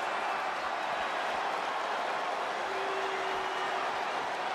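A dense, steady crowd roar fills a wrestling arena in WWE 2K20, a broad, continuous wash of cheering that stays loud and even throughout.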